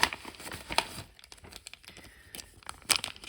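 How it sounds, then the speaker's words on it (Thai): Foam packaging around a parcel is torn open by hand, giving brief crinkling rips at the start and near the end, close and fairly quiet. "นี่เป็นฟองก็เลยฉีกเลยนะครับ"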